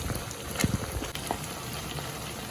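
Water is poured into a pan of frying tandoori chicken wings, giving a steady, close hiss and bubbling sizzle with a few louder pops, and no voices.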